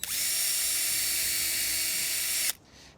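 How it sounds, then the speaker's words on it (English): A power drill whines steadily at high speed for a couple of seconds, close by, pre-drilling a hole in wood, then cuts off abruptly. "I'm going to pre-drill a hole because we don't want the ends splitting"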